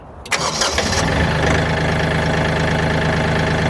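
A compact tractor engine cranks briefly with a rapid chattering starter, then catches and settles into a loud, steady, close idle with no speech.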